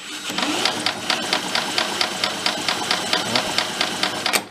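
An old, inexpensive antique military engine is revved high, giving a loud, fast, steady pulsing beat with a mechanical whirr and no talking.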